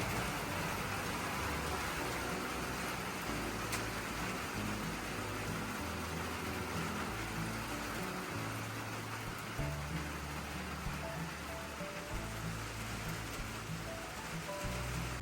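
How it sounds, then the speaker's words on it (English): Steady rain falls outside a remote cabin in the woods, a dense, even hiss of drops with low rumbling underneath that holds without a break from start to end, with no voices. "but it's raining"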